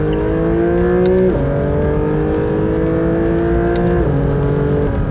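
Porsche driven hard around Sepang circuit, a loud in-car engine note climbing steadily in pitch, broken by two quick gear changes that drop the revs before it builds again.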